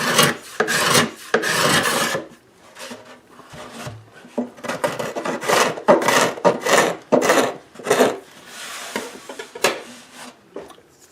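Repeated rasping scrapes on the wooden binding of a small steel-string guitar, quick strokes in uneven bursts, close and fairly loud with short pauses between.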